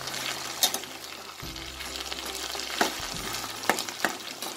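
Curry leaves with ginger garlic paste frying and being stirred in a pan, with a constant sizzle and occasional sharp scrapes and clinks of a spoon, close and alone.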